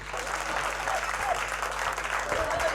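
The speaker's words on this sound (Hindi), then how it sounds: "एक बार तालियां बजा दो जरा जोरदार।" Audience applause at a Hindi comic poetry gathering, a steady dense wash of clapping throughout, fairly loud and continuous with no clear pauses.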